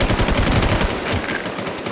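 Rapid automatic gunfire from the video game Warzone, dense bursts of shots that are loud and close throughout and ease off slightly toward the end.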